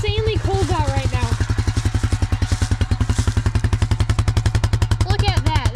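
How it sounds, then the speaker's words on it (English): A Honda Rancher ATV, abandoned and sitting unused for six years, idles in freezing cold with a loud, rapid, evenly pulsing thump close by, while someone talks over it at the start and end. "literally sitting here idling right now, guys."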